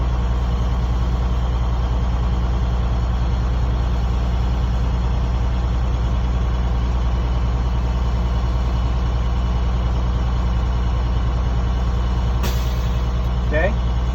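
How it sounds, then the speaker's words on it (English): A truck's air brake system idles steadily and loudly at close range, the heavy engine droning for a long stretch, with a brief sharp hiss near the end as the compressor governor kicks in. "Once again, we're going to hear the governor kick in."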